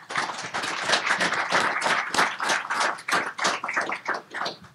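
An audience at a conference session applauds the panelists, a steady wash of many hands clapping close by that holds for several seconds and then begins to thin out.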